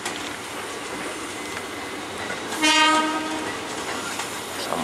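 A locomotive train rolls past with a steady rumble and clatter, and a brief loud horn blast sounds partway through.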